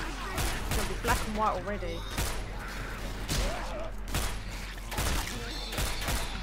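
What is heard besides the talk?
gunfire in video game Left 4 Dead 2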